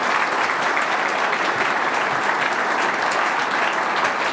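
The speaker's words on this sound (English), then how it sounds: "give her a round of applause, please" A press conference audience gives sustained, dense applause for a new head football coach's wife, with constant clapping from a sizable room that stays at an even level throughout, no speech over it.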